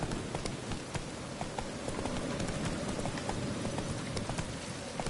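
A horse gallops in Witcher 3 Wild Hunt, with rapid, rhythmic hoofbeats thudding steadily at moderate volume.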